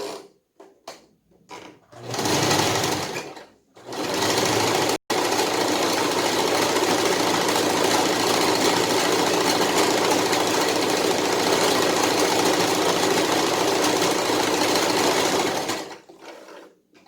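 A sewing machine runs a long continuous burst of large zigzag stitching around a fabric edge, loud and steady for about twelve seconds after a few short starts, then stopping.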